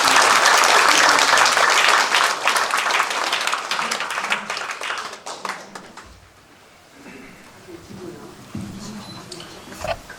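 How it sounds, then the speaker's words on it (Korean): A congregation at an annual prayer gathering bursts into loud, dense applause that thins and fades after about five seconds, giving way to a quieter room and a speaking voice. "다 함께 우리 하나님께 감사의 박수를 드리겠습니다"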